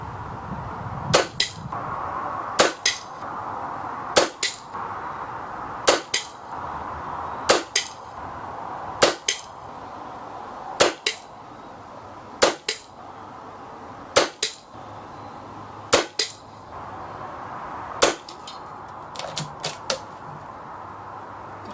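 Hatsan Galatian air rifle firing 15.89 grain JSB pellets at a 30 yard target, about eleven sharp cracks spaced roughly two seconds apart, each followed by a brief metallic ring, over a faint outdoor background.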